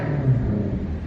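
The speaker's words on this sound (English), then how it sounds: "With a push of a button, you get basically a muffler delete and nearly straight pipes." Maserati exhaust with the valves open, close to straight pipes after a flood repair, giving a brief low rumbling engine rev that swells and eases over about a second.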